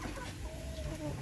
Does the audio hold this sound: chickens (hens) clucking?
yes